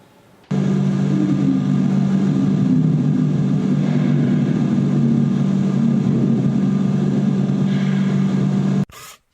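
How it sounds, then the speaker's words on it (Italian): A loud, steady engine rumble like a propeller airplane droning for several seconds, recorded at Castello di San Pelagio amid otherwise total silence, starting abruptly and cutting off near the end. "Sembra un rombo di un aereo."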